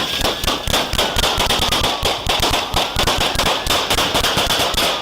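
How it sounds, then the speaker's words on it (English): A rapid volley of loud, close gunshots, handgun fire during a police confrontation at a stopped vehicle, crackling in a dense burst that runs for several seconds without speech. "Jimmy Bryant suddenly drew a handgun and opened fire on the officers"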